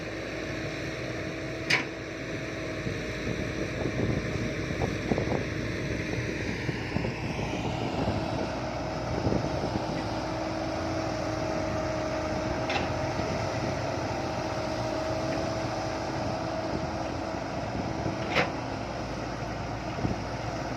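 A steady mechanical engine drones throughout, with a shift in pitch partway through and a few faint clicks over the rumble.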